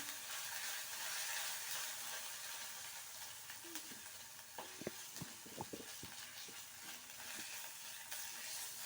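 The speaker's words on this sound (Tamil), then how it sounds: "இஞ்சி பூண்டு பேஸ்ட்டு போடுறோம் அந்த இஞ்சி பூண்டு பேஸ்ட்டோட பச்சை வாசனை போகிற அளவுக்கு வதக்கணும்" Ginger garlic paste sizzles in a hot pan for an eggplant curd curry, a constant soft frying hiss broken by a few light stirring scrapes and spatula taps partway through.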